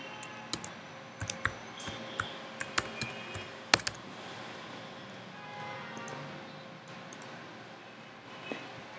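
Typing a password on a Mac keyboard, with a scattering of sharp key clicks in the first four seconds and only a faint click or two afterward, all close and fairly quiet over steady room hum.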